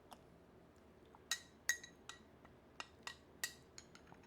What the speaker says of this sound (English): you mix it with Viili, and you just mix, mix, mix